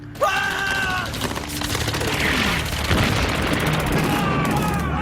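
Artillery bombardment in a D-Day war scene, dense rolling blasts and gunfire crackling continuously, loud and close, with shouting voices mixed in.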